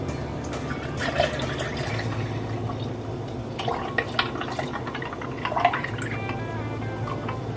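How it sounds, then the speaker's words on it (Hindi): Milk poured into a jug already holding yogurt, sugar and ice cubes for lassi, a soft continuous liquid trickle with a few brighter splashy drips over a steady low background hum. "अब मैं इसके अंदर मिल्क ऐड कर रही हूँ"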